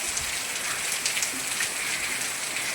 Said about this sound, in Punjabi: ਬਾਹਰ ਦੇਖੋ ਮੀਂਹ ਪੈ ਰਿਹਾ ਹੈ